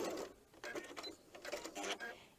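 Sewing machine stitching a 4.5-inch light fabric strip to two quilt squares for a log cabin quilt, a quiet rapid mechanical whirring in short uneven bursts, close by and faint.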